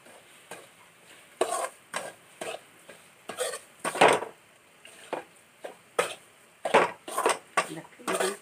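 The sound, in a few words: stirring milk into fried semolina in pan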